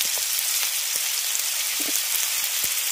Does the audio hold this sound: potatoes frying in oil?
yes